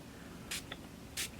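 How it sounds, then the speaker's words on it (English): A spray bottle mists onto dreadlocks in two quick, separate bursts of hissing, each brief and close, with quiet room tone between them. "I would usually just spray this onto like my dreads, just like spray it dry and just leave it in."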